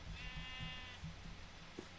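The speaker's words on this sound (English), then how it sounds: "I got a sheep." A sheep bleats in the Minecraft video game, a faint, short, wavering baa with low background sounds of play.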